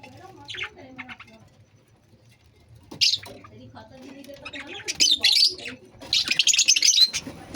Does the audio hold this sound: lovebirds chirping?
yes